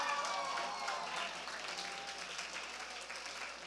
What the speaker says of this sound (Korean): 계속적으로 박수를 쳐줬지만